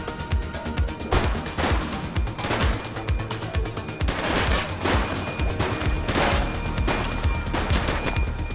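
Gunfire rings out in The Precinct video game, repeated bursts of shots in irregular clusters over a constant background of game sound, loud and close.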